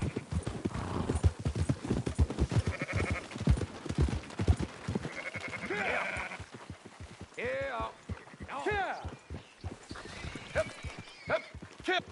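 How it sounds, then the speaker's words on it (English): Sheep bleating in the video game Red Dead Redemption 2, several wavering bleats among clopping hooves and a horse, with someone talking under the animal sounds. "Fine sheep."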